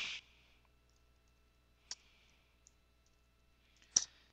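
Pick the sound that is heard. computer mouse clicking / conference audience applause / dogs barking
computer mouse clicking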